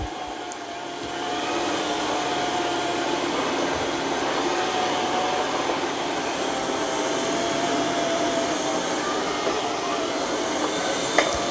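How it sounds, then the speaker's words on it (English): A Eufy X10 Pro Omni robot vacuum runs over carpet at raised suction, a loud, steady, close whooshing drone that stays constant throughout with no voices. "it should go right into vacuuming this carpet and raise its mop pads"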